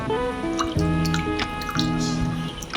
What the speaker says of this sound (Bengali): কলা দুটো আমি ভালো করে ধুয়ে নিলাম